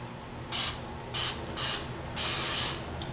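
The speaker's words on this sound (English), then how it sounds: "spray it with alcohol, or spray my mat with alcohol" Four short hissing bursts of alcohol from a spray bottle misting onto a cotton round for cleaning glitter, the last burst longest, each close and crisp against a quiet background.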